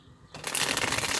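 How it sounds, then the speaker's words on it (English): A Dreams of Gaia tarot card deck is shuffled up close, a sudden burst of rapid riffling card flutter that starts after a quiet moment and continues steadily to the end. "So let's go ahead and give this 3 shuffles"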